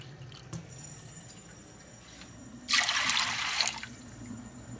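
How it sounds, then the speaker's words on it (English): Water is poured into a crockpot of red beans. Quiet kitchen background comes first, then a loud, close pour of about a second and a half splashes and gurgles before stopping. "I'm going to add a little bit more water."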